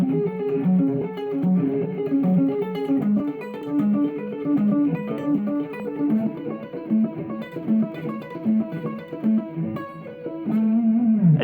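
Distorted electric guitar plays fast alternate-picked runs with one note per string, a continuous, loud stream of evenly spaced notes with no talking.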